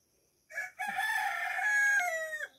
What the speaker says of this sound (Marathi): आपल्या कोंबड्या किती ओरडतात.